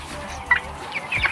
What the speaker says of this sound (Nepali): यो चाहिँ हाम्रो कुखुरा हुन्, अस्ति भर्खर आएका।